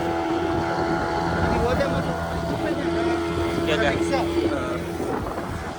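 A motorboat engine runs with a steady, continuous drone throughout, close and fairly loud, with wind buffeting the microphone and faint voices underneath.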